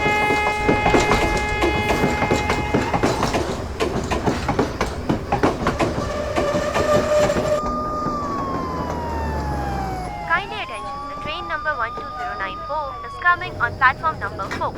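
A passenger train rolls along the rails with steady clattering, while people talk loudly over it and a rising and falling siren-like tone sounds partway through.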